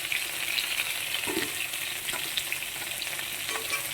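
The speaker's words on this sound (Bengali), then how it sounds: "মাছটা ভাজা হয়ে গেছে, এখন নামিয়ে নিচ্ছি।" Fish frying in a pan at home, lightly cooked and about to be lifted out: a constant close sizzle holds steady for the whole stretch, with faint soft taps under it.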